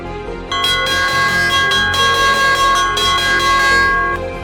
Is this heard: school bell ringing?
yes